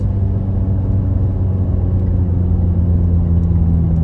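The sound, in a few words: truck engine after downshifting while towing a trailer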